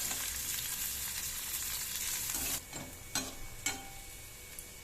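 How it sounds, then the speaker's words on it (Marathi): Sliced onion fries in a pan until golden brown, making a bright, steady sizzle that quiets partway through, followed by a few crisp utensil taps against the pan. "कांदा गोल्डन ब्राऊन झाला की त्याच्यामध्ये आपण खोबरं टाकूया"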